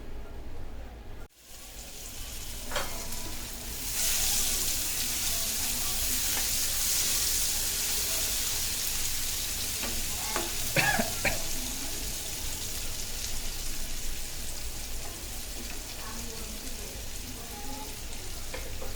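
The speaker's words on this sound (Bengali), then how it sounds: "পেঁয়াজটা খুবই অল্প জালে ভাজতে হবে।" Onion frying in hot oil left over from frying hilsa fish, a steady dense sizzle that swells after a sharp break and carries on throughout with occasional stirring clicks, close and fairly loud.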